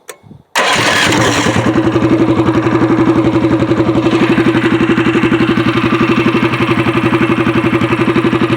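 A long-tail mud motor, run off the boat, sputters to life, then runs loud and close with a steady, rapid chugging throb that continues without a break.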